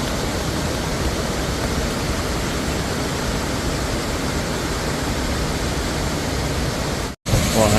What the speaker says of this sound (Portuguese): Estão todas as quedas d'água juntas